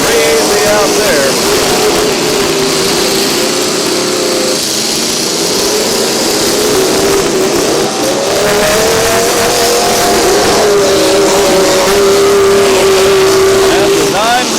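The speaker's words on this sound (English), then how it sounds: "Pickup truck demolition derby." Pickup trucks run at a county fair demolition derby, their engines revving and whining loudly and continuously, with pitch rising and falling as they accelerate, while a voice talks faintly underneath.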